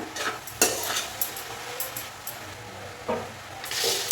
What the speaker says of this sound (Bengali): গাজরটাকে আমি বেশ কিছুক্ষণ নাড়াচাড়া করে মানে ভেজে নিয়েছি